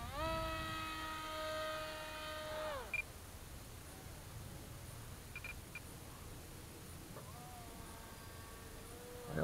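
A King Bee V-II RC helicopter flies at about a third of throttle, its motor giving a steady rising-and-falling whine, fairly faint, with a brief pitch drop and a later return of the tone.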